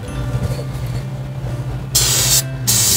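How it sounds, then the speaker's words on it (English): Brake parts cleaner sprays onto a rifle in two short, loud aerosol hisses near the end, after quiet mechanical background. "I want to blast it with this brake cleaner, a parts cleaner."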